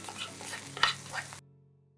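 Bitter gourd and chopped onion fry in a pan for a Kerala-style thoran, giving a brief soft sizzle and stirring scrape up close before cutting to silence.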